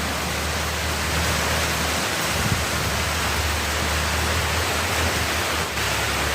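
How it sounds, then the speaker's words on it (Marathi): Heavy monsoon rain pours down continuously, a dense, loud hiss of water striking the ground and surfaces nearby, with no voices over it. "बघा पावसाला चांगला दमदार सुरुवात झालेली आहे"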